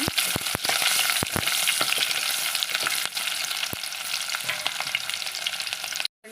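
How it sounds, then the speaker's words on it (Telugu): Onion fries in a pan, a loud close sizzle broken by sharp clicks of a spoon stirring against the metal, then cutting off abruptly just before the end. "తర్వాత ఉల్లిపాయ వేసేసుకోవాలి బాగా ఫ్రై అవనివ్వాలండి"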